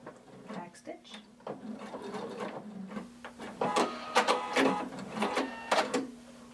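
Sewing machine back stitching a hooded tunic at a corner, short mechanical bursts of stitching with stops and restarts, close and moderately loud, with a voice talking over part of it.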